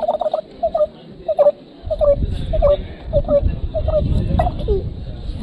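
A man vocally imitates the call of a brown-headed barbet, a repeated rhythmic series of short hooting notes, loud and close, joined partway through by crowd noise or applause at an outdoor bird festival.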